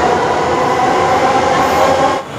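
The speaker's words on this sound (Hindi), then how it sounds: "मेट्रो जा रहा है यहाँ से।" A Bangalore Namma Metro train passes through the station, a loud, steady rumble and roar of wheels and carriages that holds for about two seconds before dropping off abruptly at the end.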